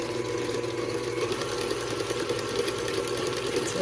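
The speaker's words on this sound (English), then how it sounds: "I'm going to whisk this a little more." An electric mixer whisks carrot cake batter made with brown sugar, giving a steady, even mechanical whir that continues throughout with no talk.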